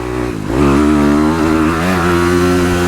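Dirt bike on a motocross track, engine dipping briefly then revving up hard into a loud, sustained buzzing drone close by.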